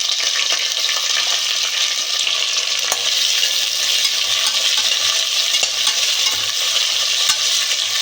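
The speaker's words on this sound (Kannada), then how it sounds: "ಆಯಿಲ್ನಲ್ಲಿ ಇಷ್ಟನ್ನೇ ಚೆನ್ನಾಗಿ ಫ್ರೈ ಮಾಡ್ಕೊಳ್ಳೋಣ" Sliced onions and green chillies frying in oil for chicken biryani, a steady, close, broadband sizzle with light stirring scrapes, continuous and fairly loud with no talking.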